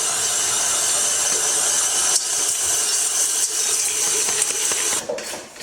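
Bread mixer kneading dough for a three-seed chia, flax and pumpkin loaf, a loud steady mechanical whir with a hissing top end, continuous before cutting off abruptly at the end.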